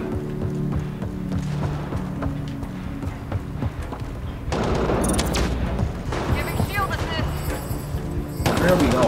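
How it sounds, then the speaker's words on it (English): Sustained gunfire from a Mass Effect Andromeda battle on Meridian, with rapid automatic bursts and impacts throughout that grow denser and louder midway and again at the end, with voices mixed in. "Who are they shooting at?"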